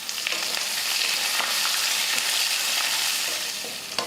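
A large onion and curry leaves fry in a pan, giving a steady, close sizzle with light crackles and faint stirring scrapes throughout.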